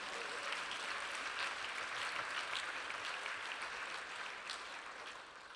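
A church conference congregation gives sustained, dense applause, a steady wash of many hands clapping that holds evenly before easing slightly at the end.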